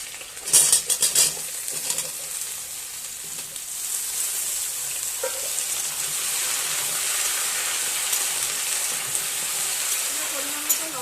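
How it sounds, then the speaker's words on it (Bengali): Taro, pumpkin, pointed gourd and potato are stir-fried with five-spice, dried red chillies and bay leaves, beginning with a few clattering spoon-on-pan scrapes and then settling into a steady, bright sizzle that builds and holds throughout. "পরিমাণ মতো লবণ, হলুদ দিয়ে ভালোভাবে এটা ভেজে নেব"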